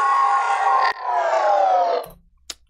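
Reversed riser sound effect in a music production session, a noisy swell in two parts broken by a short click, followed by a brief low thump and a faint tick at the end.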